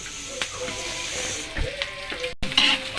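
Onions sizzle steadily in hot oil in a pan while cooking tinolang baboy (pork in ginger broth), a close, continuous frying hiss with occasional stirring scrapes and a brief cut near the end.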